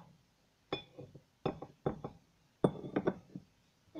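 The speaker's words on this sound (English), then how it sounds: "This is my sugar, so I'm gonna put some in." A spoon taps and clinks against a coffee cup while sugar goes in, giving a run of short, close, distinct knocks in uneven rhythm with quiet pauses between them.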